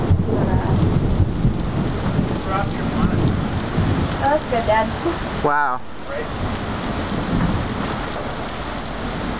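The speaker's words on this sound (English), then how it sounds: "The rain's coming down now." A thunderstorm with heavy rain pouring down, a steady dense hiss of rainfall on surfaces and low rumbling underneath, loud and close throughout, with people exclaiming and talking briefly over it.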